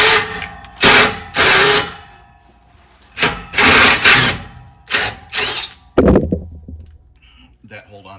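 Power tool spinning off two 13 mm nuts from an exhaust hanger on a Jeep Gladiator, heard as several loud, close bursts of whirring and rattling separated by short quiet gaps.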